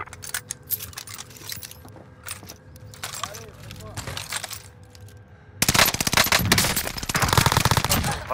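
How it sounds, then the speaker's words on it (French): Automatic gunfire from a Call of Duty Modern Warfare match on Rebirth Island, scattered bursts early then a loud, dense sustained barrage in the last few seconds, with game voice callouts mixed in. "Je subis des tirs."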